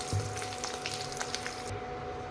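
Henna leaves fry in hot oil in a pan, giving a steady, even sizzle with light crackles and pops throughout, alone and at moderate loudness.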